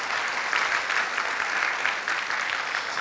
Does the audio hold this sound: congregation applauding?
yes